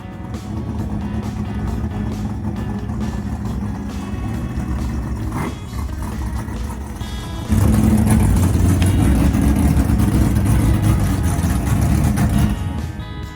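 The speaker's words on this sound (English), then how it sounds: "it's finally time to back a Mustang outside" Ford Mustang race car backing up outdoors, its engine idling with a steady low rumble that steps up louder midway as it is revved while reversing.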